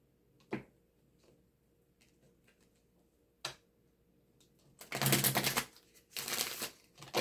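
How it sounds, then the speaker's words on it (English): Tarot cards shuffled by hand, a couple of sharp isolated snaps early on, then two dense bursts of riffling card noise near the end, close and fairly loud in an otherwise quiet room. "Shuffle one more time."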